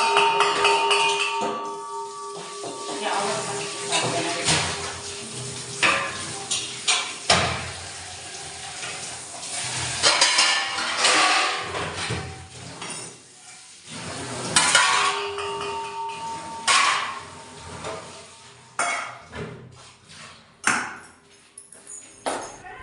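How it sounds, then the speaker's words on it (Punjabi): Dishes and pots clatter and clank repeatedly over running water, with irregular metallic knocks and scrapes close by, no talking. "ਅਸੀਂ ਹੁਣ ਲੱਗੇ ਭਾਂਡੇ ਸਾਫ਼ ਕਰਨ"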